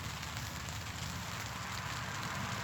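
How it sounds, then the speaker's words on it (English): Steady rain patters continuously on a surface at a winter wild camp, a dense, even hiss of drops with no talking. "And it's raining."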